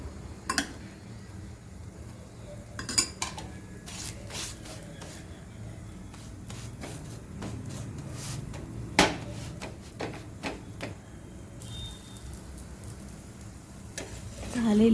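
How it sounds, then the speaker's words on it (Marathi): Puran poli roasting on a hot griddle with ghee on both sides, giving a faint steady sizzle broken by several sharp clinks and scrapes of a spatula, with a voice speaking over it. "आता मी टाकणार आहे तव्यावर आणि दोन्ही बाजूनी तूप घालून भाजून घेणार आहे"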